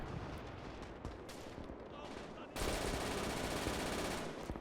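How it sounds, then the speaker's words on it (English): Hip-fired MG42 machine gun fire rattles in the video game Gates of Hell, rapid continuous bursts layered with more battlefield gunfire that suddenly swells louder and denser halfway through, with a voice talking faintly over it. "Oh, that hip-fired MG42."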